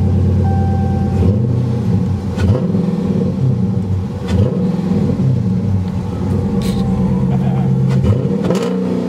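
A Dodge Charger R/T fitted with a K&N intake revs hard up close, its engine rumbling loudly and steadily for the whole stretch with rises in pitch as it accelerates, and a voice is heard faintly.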